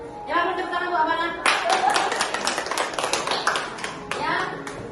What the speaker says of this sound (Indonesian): tepuk tangan Bu Abana